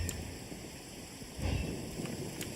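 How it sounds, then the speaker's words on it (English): Rain falls in the video game Genshin Impact as a soft, steady hiss with a few faint low rumbles. It stays quiet throughout, with no voices. "It's raining again?"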